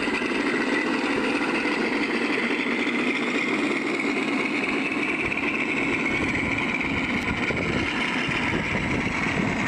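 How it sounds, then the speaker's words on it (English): Model aircraft engines starting up give steady droning noise throughout at an even, fairly loud level, a continuous mechanical hum with no voices. "his engines are now starting up"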